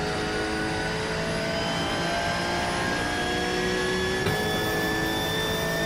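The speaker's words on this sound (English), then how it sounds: "Car sounds a little annoyingly loud" A loud race car engine during a Daytona 24 Hours testing day, a steady droning whine with strong harmonic tones that shift slightly in pitch, heard continuously and close without talk.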